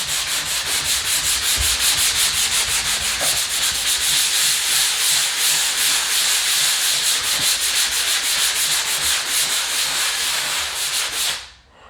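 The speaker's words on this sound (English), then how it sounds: "I'm using a sanding sponge which is made for drywall" A drywall sanding sponge rubs back and forth over a patched drywall spot in quick, rhythmic scratchy strokes, loud and close, continuing steadily for about eleven seconds before stopping abruptly.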